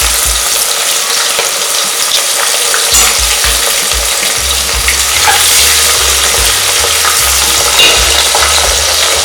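Onions and green chillies fry loudly in oil for chicken biryani, with a dense, continuous close-up sizzle and intermittent scraping stirs throughout.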